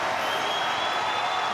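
Tennis crowd at the Australian Open 2021 clapping after a match-point winner, a brief, steady wash of applause heard from a distance.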